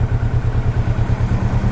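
A Kawasaki Vulcan S cruiser motorcycle engine idling close by, a loud, steady low rumble with an even pulsing beat.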